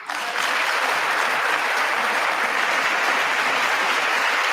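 An audience applauds at a State of the Union address, sustained loud clapping that fills the hall evenly throughout, with no voices standing out.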